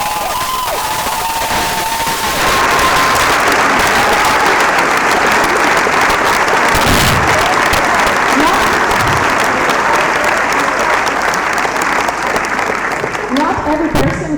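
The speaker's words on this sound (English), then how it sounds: "Applause, please." A large audience applauds and cheers at length for a president and coordinator at a team event, dense sustained clapping with scattered shouts, loud and steady throughout.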